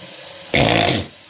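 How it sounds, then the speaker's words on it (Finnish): Water poured briefly into a coffee maker, a steady close splashing rush lasting about half a second before stopping. "Tästä vähän vettä."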